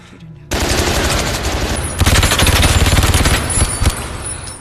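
A heavy gunfire barrage in a film erupts abruptly after a brief quiet lead-in, dense rapid automatic bursts rattling loud and close, with sharper volleys intensifying midway.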